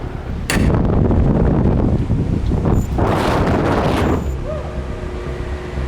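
Roaring airflow inside an indoor wind tunnel running at high speed, a loud continuous rush buffeting the microphone, with surging gusts in the middle; no talking.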